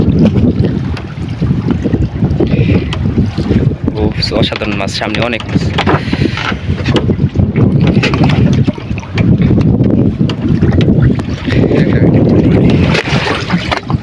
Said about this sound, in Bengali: নদীটার কি আজকে অনেক হাওয়া অনেক খারাপ নদীতে অনেক ঢেউ